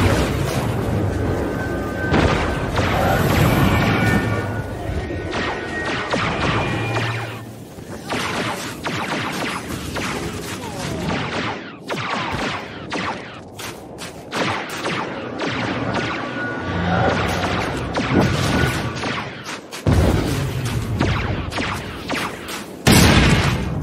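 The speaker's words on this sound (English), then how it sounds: "Turret firing on Reaper Squad's ship." A turret fires amid explosions during a Star Wars: The Old Republic warzone battle on Alderaan, with dense, loud rapid blasts and booms repeating throughout, punctuated by sharp cracks and brief lulls.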